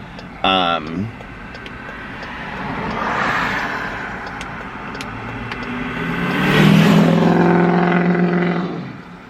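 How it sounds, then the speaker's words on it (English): Cars on a road in the morning pass and rev their engines, with a slow swell of engine noise rising toward the end. Someone talks close by over the traffic. "they're revving up their engines"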